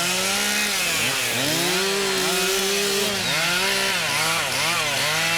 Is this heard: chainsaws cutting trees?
yes